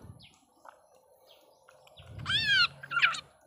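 A wild forest bird being tamed by hand gives a short, bright chirping call near the end, with a few faint quieter chirps before it over low background noise.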